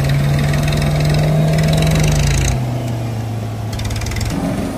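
A tractor engine labours hard to drag a stuck Toyota Fortuner out of mud during off-roading, a loud, close, steady drone whose pitch sags partway through as the load bites.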